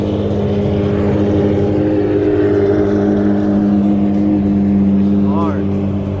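Built BMW F80 M3 engine idling nearby, a loud, steady low rumble with a droning hum that holds constant throughout, without talking over it.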